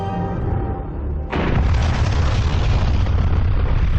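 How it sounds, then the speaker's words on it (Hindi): A deep, rumbling blast from the Soviet Union's largest-ever bomb erupts after a low background roar, then a sustained heavy roar continues, loud and close. "सोवियत यूनियन ने इंसान के बनाए अब तक के सबसे बड़े बम में विस्फोट किया था।"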